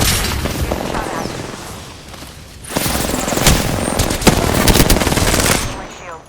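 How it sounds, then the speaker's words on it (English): Rapid bursts of gunfire from an Apex Legends match, with loud machine-gun strings and sharp shots clustering in dense volleys, fading briefly and then returning heavier. "Getting shot at."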